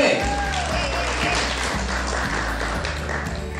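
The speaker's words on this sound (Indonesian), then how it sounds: "tepuk tangan dulu lah tuh" Hand clapping from an audience at an SME mentoring workshop, steady crowd applause with rhythmic low thumps and voices chatting underneath.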